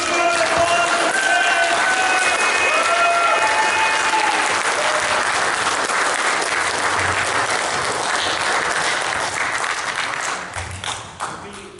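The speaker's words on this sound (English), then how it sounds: "I want to have a huge round of applause for" Loud, sustained applause from a convention audience at Megaplex 2018, dense clapping with cheers and whistles over the first seconds, tapering off near the end.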